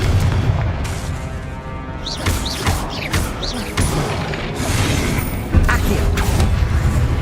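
Confringo explosion spell in the video game Hogwarts Legacy, heavy booming impacts and crashing blasts mixed with swooshing magical whistles and mechanical clatter, loud and close amid continuous game sound.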